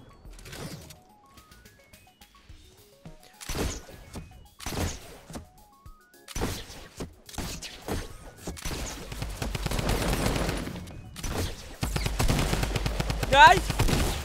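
Gunfire from a weapon in the Fortnite video game, heard as bursts of shots spread across the clip with louder, denser firing near the end, mixed with game sound effects.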